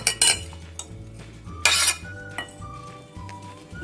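A spoon stirs boiled potatoes, chickpeas, tomatoes, green chillies and onion together in a bowl for chaat, with several sharp metal clinks and scrapes against the dish, close and fairly quiet.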